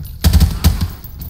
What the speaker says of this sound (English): Adam AK ile vuruyor,